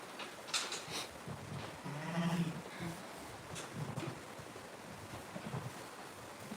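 A ewe making soft, low mothering bleats during lambing, one murmuring call near the middle over a windy, rushing outdoor background, faint and close.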